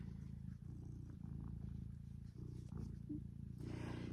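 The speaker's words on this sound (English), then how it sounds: "Sorry if you can hear purring." A small cat purrs close by as a continuous low rumble, steady for several seconds with slight pulsing. A louder burst comes near the end.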